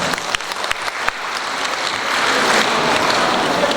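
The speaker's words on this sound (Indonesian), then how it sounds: "Tepuk tangan untuk kita semua." Dense, steady applause from a seminar audience on anti-bullying character education, starting with a few scattered claps and swelling into a sustained, even wash of clapping that fills the room.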